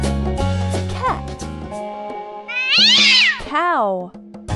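A cat gives two drawn-out meows, close and clear, over steady background music as part of a farm-animal sound game.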